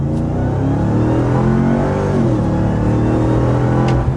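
A 2024 Ram 1500 TRX pickup truck accelerating hard, its engine loud and close with a rising, sweeping roar that holds strong throughout, no talking.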